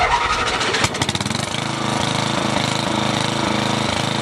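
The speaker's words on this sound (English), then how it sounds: "It's the tractor, and look who's running it." A loud tractor engine sputters and catches, then settles into a steady, throbbing rumble running close by, heard on a 1989 home movie.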